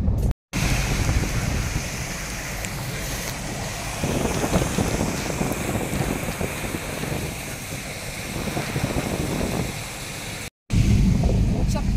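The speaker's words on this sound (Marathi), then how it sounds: "खूप पाऊस पडतोय" Heavy monsoon rain on a car driving through the Lonavala ghat, a loud continuous broadband roar of rain and road noise with brief dropouts, with voices faintly underneath.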